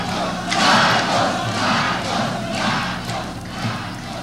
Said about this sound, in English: Thousands of loyalists cheering the failing dictator